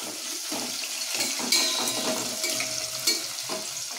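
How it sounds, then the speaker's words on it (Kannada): Onions sizzle and fry in hot oil in a pan with garlic and ginger, a steady crackling hiss with a few sharper stirring scrapes, close and moderately loud with no talking. "ಇವಾಗ 2 ಆನಿಯನ್ ಹಾಕಿ ಬಾಡಿಸೋಣ।"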